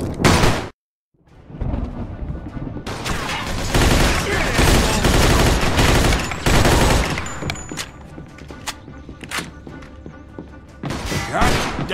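Loud, dense gunfire from a Mafia II shootout: rapid bursts and heavy volleys up close, broken by a brief silence near the start and continuing almost nonstop, with thuds and crashes mixed in and occasional voices.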